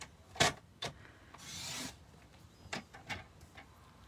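Quilt fabric is trimmed with a rotary cutter along a cutting track, heard as a soft close scrape lasting about half a second, surrounded by quiet taps and rustles of handling.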